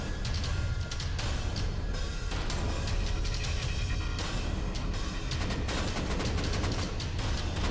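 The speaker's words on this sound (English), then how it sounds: "AKs are going off." AK rifles fire during a large clan raid on high walls in the Rust video game, as dense, continuous overlapping shots with loud sharp cracks and no pauses.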